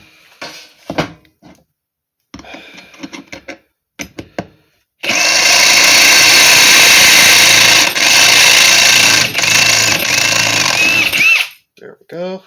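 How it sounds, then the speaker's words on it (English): A power drill bores holes in wood during holly tree turning work, a loud sustained whine lasting several seconds, preceded by short clicks and handling noises. "Drill these other 2 out."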